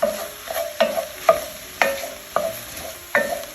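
Vegetables and spices cooking in a STAUB pot for Cuban oxtail stew, a soft simmering sizzle broken by about seven regular clanks of a utensil stirring against the pot.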